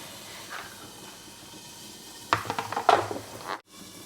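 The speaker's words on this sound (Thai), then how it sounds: "ส่วนข้างบนเราจะใส่เนยนะคะ เราจะทอดเขาให้สุกนะคะ" Fish frying in butter in a covered pan, a faint steady sizzle with a few sharp clanks of a lid or utensil against the cookware, ending in a brief thud.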